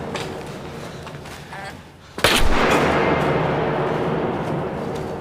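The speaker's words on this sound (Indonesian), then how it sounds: "Ia segera melepaskan beberapa tembakan secara membabi buta tanpa mengetahui keberadaan targetnya" A film scene with a gun fired blindly in the dark: one sudden loud shot after a quieter lead-in, followed by a sustained rumbling wash of noise.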